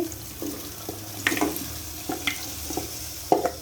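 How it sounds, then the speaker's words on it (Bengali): Meat goes into fried, well-cooked spice masala with a steady sizzle, punctuated by repeated scraping and clattering strokes of a spoon against the pot. "আমার মশলা কিন্তু কষানো হয়ে গেছে এখন আমি এই যে মাংসগুলো দিয়ে দিচ্ছি"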